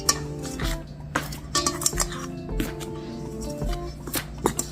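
Ingredients for Guyanese bakes dough being mixed in a bowl, with a spoon clinking and scraping against the bowl in quick, uneven strokes, close and moderately loud, with no talk.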